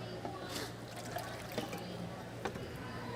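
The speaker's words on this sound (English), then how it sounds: "So I add 500 mils of water to this." Water poured into a pressure cooker, a faint trickle and splash with a few small bursts, heard quietly under low background noise.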